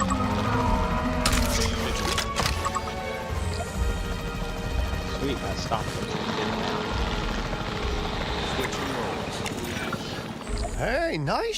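Capture team helicopter in Jurassic World Evolution 3, a continuous loud rotor drone with clattering and crashing effects layered over it, ending in a rising whine.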